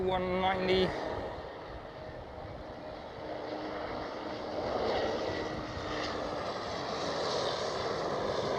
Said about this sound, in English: KLM City Hopper E190